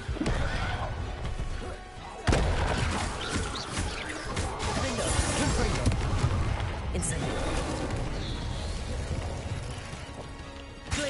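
A fire spell cast in Hogwarts Legacy, a loud whooshing burst with a crashing impact at about two seconds, followed by roaring flame and game effects that run on under a voice.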